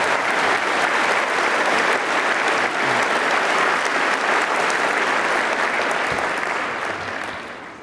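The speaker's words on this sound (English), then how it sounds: "Why don't we give them a round of applause?" Large audience at the National September 11 Memorial Museum dedication in New York gives loud, sustained applause, a dense roar of clapping that holds steady and then begins to fade at the end.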